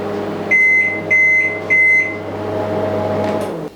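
An electric oven runs from a portable power station with a steady low hum, interrupted near the start by three loud, evenly spaced beeps before the hum continues alone.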